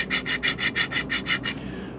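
A file rasps across a freshly sawn cut end in nine quick, even strokes, close and fairly loud, before stopping.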